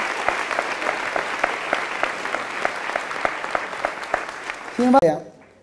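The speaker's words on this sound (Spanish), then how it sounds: "Fuertes aplausos al Señor y a la Santísima Virgen María" A church congregation applauds the Lord and the Virgin Mary with steady, sustained clapping that swells and ends abruptly, followed by a brief voice.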